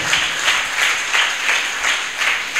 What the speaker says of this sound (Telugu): చప్పట్లు కొట్టి దేవుని నామాన్ని గణపరుద్దాం